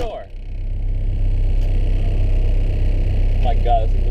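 Nissan 240sx budget time-attack car at Buttonwillow Raceway Park, a steady low engine rumble and drone heard from inside the cabin, loud and constant, with brief bursts of voice near the start and end.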